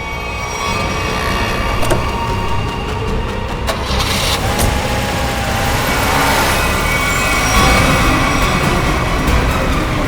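A car engine at a police station, running steadily with a continuous low rumble and a mid-range whine, loud and close throughout, with no speech.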